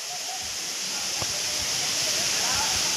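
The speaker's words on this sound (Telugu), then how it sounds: "చూడండి వాటర్ ఇటు నుంచి కూడా వస్తుంది" Water rushes and splashes steadily over rocks at a waterfall, a continuous hiss that fills the background without pause.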